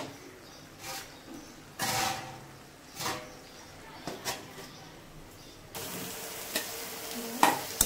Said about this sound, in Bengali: আলু দিয়ে দিলাম, আলু দিয়ে এখন নাড়াচাড়া করে ঝোল